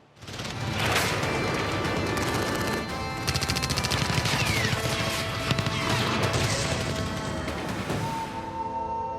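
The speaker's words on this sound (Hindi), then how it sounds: "असद ने दुश्मनों पर बंदूक तान दी।" Dramatized gunfire in a crime biography about a mafia figure, a loud, sustained barrage of rapid shots and crashing impacts that runs for several seconds with no speech.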